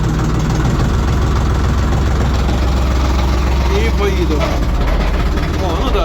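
A compact cab tractor of about 24 to 40 horsepower, in reverse gear, runs its engine in a steady, loud, low drone that lifts slightly as throttle is added. The engine stays close throughout, with a voice faintly over it.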